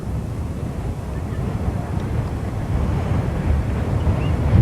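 Wind blows across an outdoor track meet during the shot put, a low, steady rumbling roar of gusts buffeting the microphone that swells slightly toward the end, with no clear speech.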